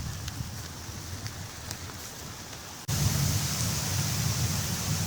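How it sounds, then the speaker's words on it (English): Steady rain falls in a park, a continuous dense hiss that abruptly grows louder and heavier midway, with no voices. "So we'll see when it stops raining."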